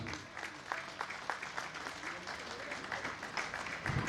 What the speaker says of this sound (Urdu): ان کے لیے بہت سی تالیاں